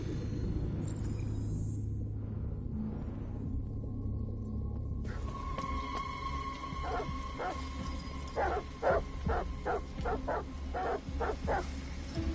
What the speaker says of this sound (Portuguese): Eles não param de latir.